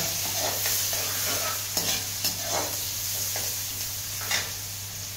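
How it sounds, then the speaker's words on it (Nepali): Curry leaves and onion lightly frying in a pan, a steady close sizzle with repeated scraping stirs and soft clinks, no voices. "कडी पत्ता, प्याज, प्याज भुन्ने हल्का हल्का।"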